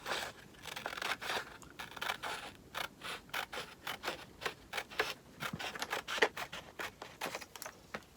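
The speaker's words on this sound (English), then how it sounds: "I need to cut this top part off, because I want it to go all the way up." Someone cuts the top part off a piece of craft material for rustic country home decor, making a steady run of close, rhythmic snipping and crinkling sounds with no speech.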